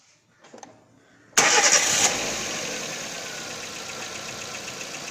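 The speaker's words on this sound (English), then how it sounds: "Let me crank the engine." A car engine cranks briefly with a whirring starter, then catches and roars to life before settling into a steady idle.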